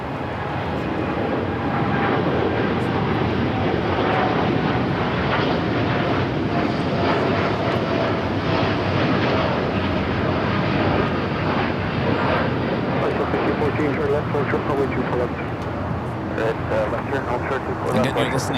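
United airliner jet engines at Los Angeles airport, a sustained loud rushing roar that swells slightly after the start and stays steady, with talk faintly underneath.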